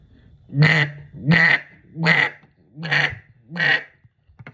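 Five loud, evenly spaced quacks from a Featherstone Rogue cutdown duck call, each drawn out and nasal, close up with short gaps between.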